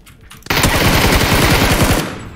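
Rapid automatic fire from a SCAR assault rifle in PUBG, a loud sustained burst of closely spaced shots lasting about a second and a half after a short quiet lead-in, then tailing off.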